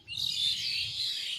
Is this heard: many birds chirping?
yes